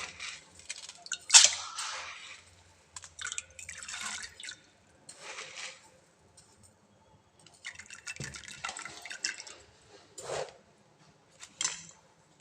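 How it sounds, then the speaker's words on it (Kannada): Toor dal poured into water inside a pressure cooker for vegetable sambar: scattered wet splashes and drips in short bursts with quiet gaps between, close and fairly soft. "ಈಗ ತೊಗರಿಬೇಳೆ ಹಾಕ್ತಾ ಇದ್ದೀನಿ"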